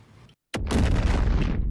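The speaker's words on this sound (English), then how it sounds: "And of course wyvern ammo for some big explosions." Big wyvern-ammo blasts from a heavy bowgun in Monster Hunter Now: a sharp report after a brief silence, then a sustained loud roaring explosion rumble that fills the rest of the moment.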